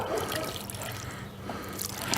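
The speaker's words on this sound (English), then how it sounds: "I'm going to go ahead and give each one of them some rainwater. It's rainwater that I've collected." Collected rainwater is poured over newly planted tomato plants, a steady close trickle and splash of water running throughout, with brief brighter spatters near the end.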